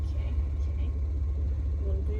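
A manual pickup truck pulls off in first gear, its low engine rumble steady and close, with speech from people inside the cab.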